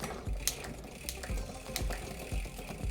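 Bicycle derailleur shifting gears with too much cable tension, giving a steady ratcheting, clicking drivetrain rattle at close range with a few sharper clicks as the chain reaches for the next sprocket.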